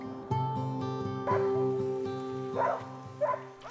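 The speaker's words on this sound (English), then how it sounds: "They breed sleigh dogs" Sled dogs bred by a family in the remote wilderness of the Kamchatka peninsula bark and yip together in a busy, overlapping chorus, fairly close, with whimpers mixed in under a steady tonal background.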